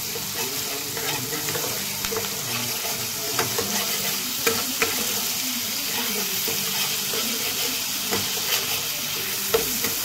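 Spice paste with sugar sautéing in a pan, with a continuous soft sizzle and occasional sharp scrapes and taps of a spoon being stirred through it over about ten seconds.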